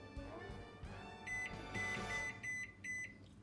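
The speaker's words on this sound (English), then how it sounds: "you need to set your microwave for 5 minutes on full power" A microwave oven runs at full power while cooking a cake, its steady hum joined by a few faint beeps toward the end, quiet and without talk.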